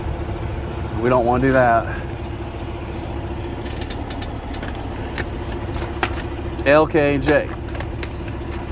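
A semi truck idles with a steady low diesel rumble while its air suspension bags fill, a soft airy hiss rising in the background as someone talks briefly over the engine.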